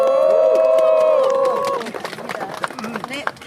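A crowd at an outdoor protest rally in Canberra breaks into scattered clapping after a sustained tonal passage fades, with voices mixed into the claps.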